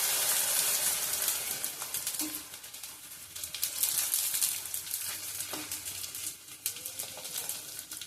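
Puran poli dishes frying in hot oil for a Gauri Ganpati festival meal, a steady close crackling sizzle with a few faint clinks, no talk.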